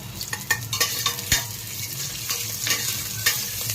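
Onion, garlic and ginger sauté in a little oil in a pan for Filipino chicken soup, a steady close sizzle broken by scraping stirs and light clanks of a utensil against metal.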